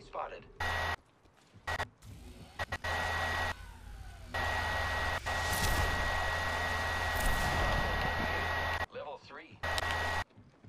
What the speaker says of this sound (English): Did you just pop a smoke?